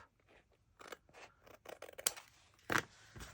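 Scissors trim paper for a scrapbook page in a series of faint, close crisp snips with short pauses between cuts.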